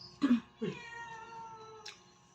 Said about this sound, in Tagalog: Meow. Pusa mo.